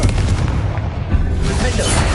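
A Confringo blasting curse detonates in a Harry Potter wizard game, a dense, loud, continuous roar of explosive booms and rumble filling the whole moment up close.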